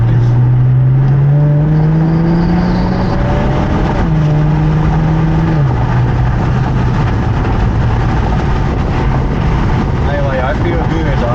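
An Infiniti Q50's engine growls loud and close while driving, with rising and falling revs as it accelerates and shifts, the deep droning tone continuous throughout the clip, with occasional talk underneath.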